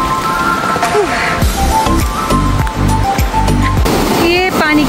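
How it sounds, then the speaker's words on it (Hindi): A waterfall in the Kullu mountains roars as a steady, loud rush of water, with someone talking over it and a bird chirping faintly near the end. "वो सामने वाटरफॉल है"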